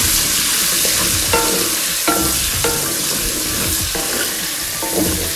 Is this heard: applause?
no